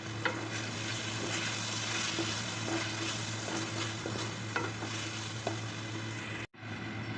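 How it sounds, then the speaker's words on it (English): Chili sauce and vinegar are stirred together in a hot pan with vegetables for chowmein, giving a steady low sizzle with faint spoon strokes, close and continuous until a brief cutoff near the end. "And we will take 1 more spoon and mix them well."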